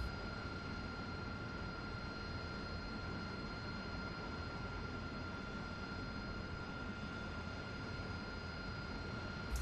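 An AV-8B Harrier jet taxiing in DCS, a steady, unbroken engine whine and roar with a constant high tone held throughout, no pauses.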